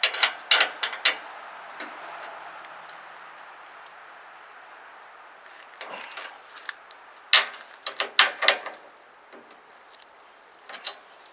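A socket on a wobble extension is pushed like a small breaker bar while working on a lawn care tractor, giving scattered bursts of sharp mechanical clicks and clacks with quiet gaps between them.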